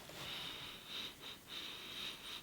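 Someone sniffs at a new HOSIM RC car with rubber tyres, giving a few soft, breathy sniffs that are faint and close, with a steady high whine behind them.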